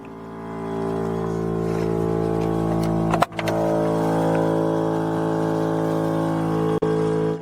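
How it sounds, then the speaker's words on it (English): A small air compressor under the seat of a 2003 Mercedes G500 hums steadily at close range, a constant motor drone with two brief clicks or bumps partway through. "Under the seat is the cute little compressor."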